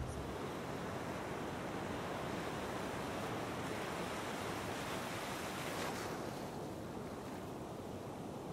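Atlantic Ocean surf at Vilano Beach near St. Augustine, a steady broad wash of waves with wind noise buffeting the microphone, continuous and fairly close, no voices.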